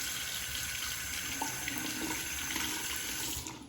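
Tap water runs steadily into a sink to rinse a Merkur 24C XL safety razor during a shave, a continuous splashing stream heard close up and alone before it tapers off at the end.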